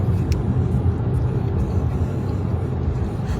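A car drives along with a steady low road and engine rumble filling the interior, constant and fairly loud, without distinct events.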